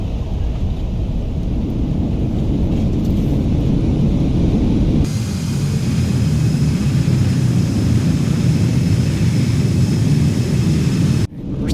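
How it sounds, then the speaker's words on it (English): Embraer 195 airliner in the X-Plane 12 flight simulator applying reverse thrust after touchdown at Orlando: a loud, steady broadband engine roar that swells with a sharp shift midway and cuts off abruptly near the end. "Reverse thrusters coming on."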